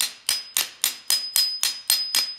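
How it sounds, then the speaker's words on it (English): A steel hammer whacks a punch nine times in a steady rhythm, about four blows every second, while removing paracord grab handle hardware on a Jeep JL. Each strike is close and sharp with a metallic ring, and no one speaks. "Give it a couple whacks with the hammer."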